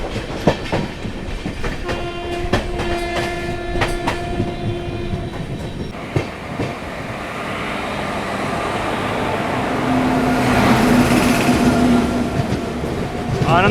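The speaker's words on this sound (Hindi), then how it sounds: "भाई क्या ट्रैक साउंड आ रहा है।" An Amrit Bharat Express train runs over the tracks near Ghaziabad Junction, producing a steady rhythmic clickety-clack from the wheels at close range under a continuous rumble. The noise builds louder toward the end, with a faint high whine.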